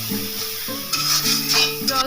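Garlic paste, salt, turmeric and chili powder stir-fried in a pan for a Bengali egg curry give a soft sizzle with brief scraping stirs, close up and without talk.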